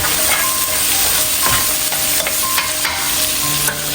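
Jamaican curry corned beef frying in a pot while being stirred, a loud continuous sizzle with scraping strokes of the spoon against the pot, no talking.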